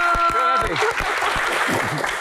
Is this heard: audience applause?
yes